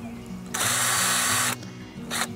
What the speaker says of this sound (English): he's going to let the drill bit take itself through the bark